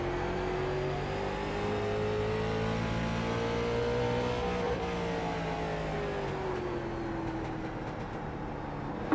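Late model race cars lap Martinsville in iRacing, a loud, sustained engine drone with a slowly rising and falling pitch as the car works through the track, steady and close with no talking.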